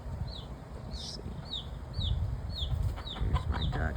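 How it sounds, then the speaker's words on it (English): Backyard flock of chickens and chicks: a series of short, high chirps and cheeps repeats roughly every half second over low clucking and rustling, close and moderately loud. "You can hear the chicks."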